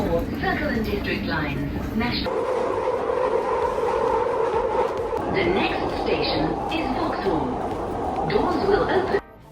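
A train rumbles steadily along while people chatter nearby, with occasional higher mechanical whines rising over the carriage noise.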